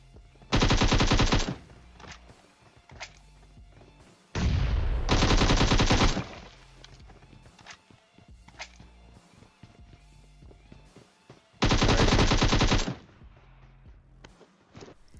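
Gunfire in the PUBG Mobile video game comes in three loud, close bursts of rapid automatic shots, separated by quieter stretches of game ambience and faint footsteps.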